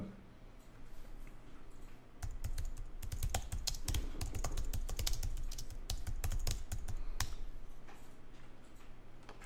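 A computer keyboard clatters as a search is typed, with rapid, close key clicks in uneven bursts after a brief quiet start, no voice over it.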